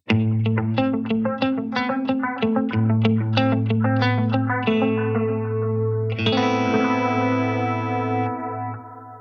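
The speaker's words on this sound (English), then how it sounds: "That's a really nice sounding delay as well." A guitar runs through a Wampler Metaverse programmable multi delay pedal with the tone pushed up, giving dark lo-fi repeat tails. Rapid picked notes echo and blur together, then a sustained chord rings out with trailing repeats until it fades.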